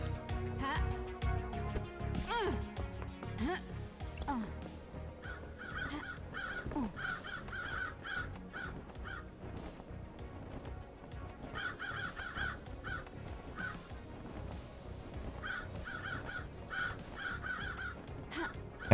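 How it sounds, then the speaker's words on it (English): Crows cawing in the video game Paradise Killer, repeated harsh calls recurring in bursts throughout over a steady, busy background of game music. "Hi, birds. What you guys doing?"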